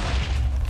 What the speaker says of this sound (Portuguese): Agora eu vou colocar redstone em volta e daí a gente já aciona esse meu canhão.